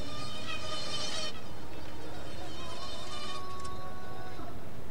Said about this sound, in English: It's the mosquito.